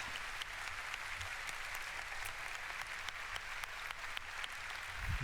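Audience at the Ubisoft E3 2016 press conference breaks into a dense, steady wash of applause that holds evenly throughout, with no voices standing out.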